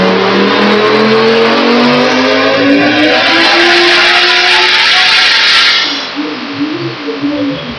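A tuned 1992 car making 751 horsepower revs hard and loud, its engine note climbing steadily in a sustained wail before dropping off near the end into rougher, lower idling rumbles.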